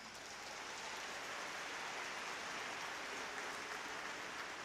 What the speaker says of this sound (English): Please join me in a round of applause for these 2 ladies